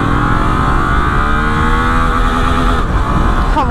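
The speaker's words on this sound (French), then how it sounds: "dès qu'on actionne vraiment l'accélérateur, on sent que waouh, on se fait tracter d'un coup par la moto" Suzuki GSX-8S motorcycle accelerating hard, a loud continuous engine roar with rising harmonic tones as revs climb, heard close up from the rider's position, with wind noise beneath.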